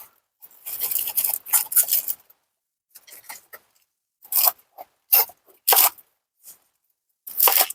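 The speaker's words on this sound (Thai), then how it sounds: "ก่อนอื่นเรามาหั่นผักบางตุ้งกันก่อนเลยนะคะ" A kitchen knife cuts Chinese bok choy (pak kwangtung) for a stir-fry, giving crisp crunchy chops in irregular bursts separated by short silences, close and clear with no talking.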